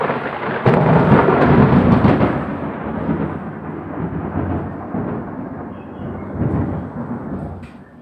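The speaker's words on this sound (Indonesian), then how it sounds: "Tuh denger ya suara geluduknya." Deep, sustained rumble of thunder rolling loudly at first, then slowly fading into a lower, steady roar, with no voices.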